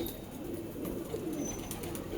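Low, throaty cooing from Khourahe bloodline pigeons at a loft in Allahabad, rolling along steadily and fairly close for the whole stretch, with a faint background hiss and no talking.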